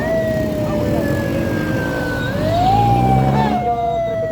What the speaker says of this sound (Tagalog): dumating na po ang ambulansya mga pare ko